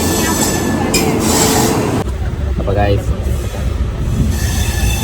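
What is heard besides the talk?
train starting to move, wheels squealing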